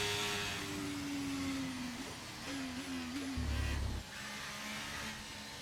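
Haas F1 car with a blown engine in the F1 23 game at the Belgian Grand Prix, a faint, strained, wavering whine with dips and surges and a brief low rumble partway through.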